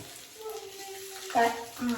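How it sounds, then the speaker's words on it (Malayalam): Mustard seeds crackle and sizzle in hot oil for a Kerala dish, a soft frying hiss with brief popping bursts, while voices and tonal kitchen sounds linger underneath. "കടുക് പൊട്ടി കൊടുക്കണം."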